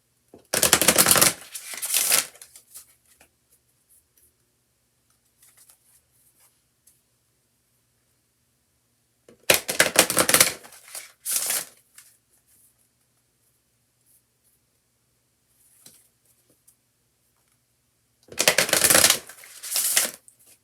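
A deck of oracle cards riffled and shuffled in three separate bursts, several seconds apart, close and crisp with silence between.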